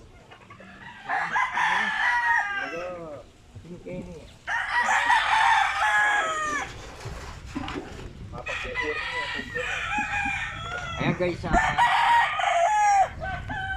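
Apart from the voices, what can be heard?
chickens clucking and rooster crowing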